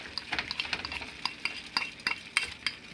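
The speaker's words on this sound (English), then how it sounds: "I'm going to stir that in, and that's going to become really thick really fast because it's got the egg in there" Egg and flour pasta dough being stirred in a bowl, a steady run of close scraping, tapping strokes with a repeating rhythm and no talk.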